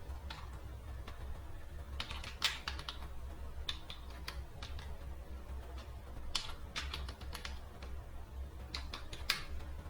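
Someone types a password on a computer keyboard: quiet bursts of quick key clicks in several short clusters, separated by pauses, over a low background hum, with no talking.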